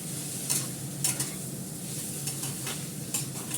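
A spatula stirs and scrapes food in a frying pan over a low, constant sizzle, with a few sharper clinks against the pan at irregular intervals.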